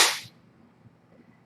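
A kitten gives a single sharp, brief sneeze up close, followed by near silence.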